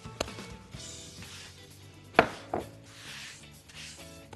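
A knife cuts through rested, yeast-free börek dough on a board, giving a few sharp, distinct chops and taps, close and fairly quiet, with the loudest strike near the middle.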